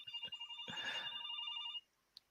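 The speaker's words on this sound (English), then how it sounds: "sorry, my phone is going off. I'm just trying to shut it off." A mobile phone ringtone trills in repeated bursts for under two seconds, fairly close and clear, then cuts off, leaving near silence with one faint click.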